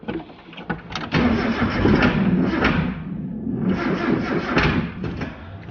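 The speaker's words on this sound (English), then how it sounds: "You can hear the intake, and it just will never start." A turbocharged Mazda Miata engine, its timing one tooth off, cranks repeatedly with a labored, rhythmic churning and audible intake that rises and dips, never catching to run, close by and loud.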